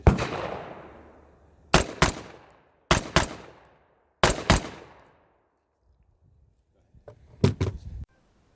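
Brownells BRN-180 rifle fires in paired and clustered shots, loud and close, each burst ringing out with a decaying echo between groups, with quiet gaps in between.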